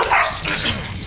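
A dog barks in a short, close burst, a single sharp yap that quickly fades.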